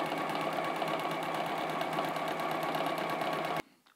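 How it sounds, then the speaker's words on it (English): Close up, a sewing machine stitches a quarter-inch seam on a half-square-triangle quilt block, giving a fast, even mechanical chatter that stops abruptly near the end. "now I'm going to stitch a quarter of an inch away from that center marked line"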